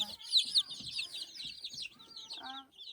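Chickens clucking close by in a busy, overlapping chorus of short calls, with a brief low voice near the end.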